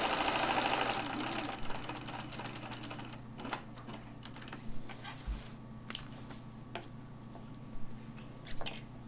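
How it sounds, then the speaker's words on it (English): A sewing machine stay stitching around the curved neckline and armholes of a fitting-shell garment, with a steady motor hum and clusters of quick needle clatter separated by brief pauses. "now I will stay stitch around the curves, the neckline, and the armholes, and also sew all of the darts together to the outside of the garment"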